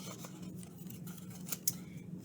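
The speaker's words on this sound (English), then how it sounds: "you're going to cut a slit in the bottom of your cup" Scissors snip a slit into the bottom of a cup for a children's craft, a few close, crisp cutting clicks over faint room noise.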